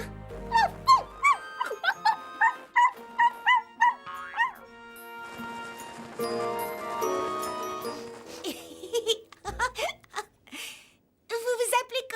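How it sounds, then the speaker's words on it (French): Small cartoon dog yipping and whimpering in a rapid string of high barks, then a stretch of music and talk, with a few more yips near the end under voices. "Mon chien s'appelle Clafoutis"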